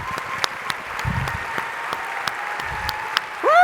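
Audience applause at a conference gathering in Columbus, steady clapping with scattered sharper claps throughout, ending in a louder swell of cheering.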